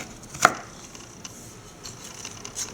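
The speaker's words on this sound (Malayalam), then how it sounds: "അതുകൊണ്ട് ചെറുതായിട്ട് അരിയുക" A knife chops broccoli finely by hand on a cutting board, with one sharp close chop and then a few fainter taps.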